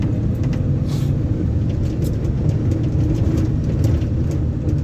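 A car engine revs and strains hard under acceleration, a steady loud low rumble with rising intensity, close by and without voices, while a driver struggles to maneuver.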